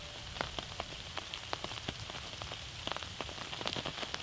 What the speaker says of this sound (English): It started to rain quite intensely